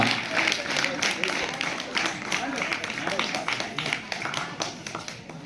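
An audience at a school event applauds steadily throughout, a dense patter of many hands clapping at once, with a murmur of voices mixed in.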